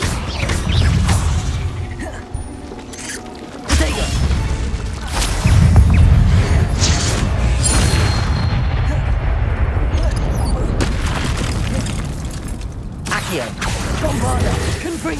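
Bombarda and Confringo spell explosions in Hogwarts Legacy, heavy booming blasts and rumbling impacts repeating across the clip, loud and layered with game mechanisms while a voice calls out spells.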